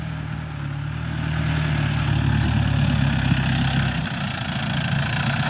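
Brand-new Yanmar YM357A tractor engine running steadily during rotary tilling of a paddy field, a continuous low diesel drone with a steady rhythm, close and fairly loud, with no voices.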